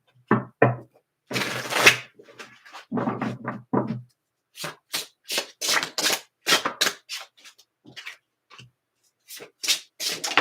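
Gold foil tarot cards are shuffled and handled in short, crisp riffling bursts and soft slaps, close and clear with quiet pauses between them.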